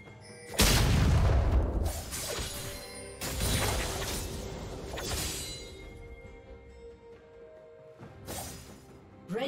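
Turret destruction in League of Legends: heavy booming crashes with shattering debris, three separate blasts spaced a few seconds apart, each decaying into a rumbling tail.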